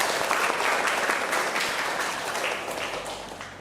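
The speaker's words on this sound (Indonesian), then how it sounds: "Beri aplaus untuk pertanyaan Anma." Applause from an audience at an academic teaching session, a dense steady wash of many hands clapping that fades slightly toward the end, with no voices over it.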